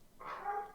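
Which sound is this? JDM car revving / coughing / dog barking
dog barking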